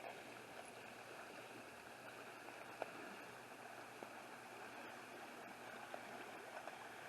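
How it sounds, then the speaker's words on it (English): The Chattahoochee River runs along the Riverbend in Helen with a steady, soft rush of water, heard from nearby and unbroken, with a few faint knocks. "Just something about watching running water here along the Riverbend, the Chattahoochee here in Helen."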